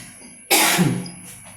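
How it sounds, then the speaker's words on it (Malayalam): One sharp, loud cough bursts out after a bite of spicy bird's eye chilli pickle, close to the mic, then trails off into a brief rough throat sound. "ഇത് കഴിച്ചിട്ട് ചുമ വന്നു"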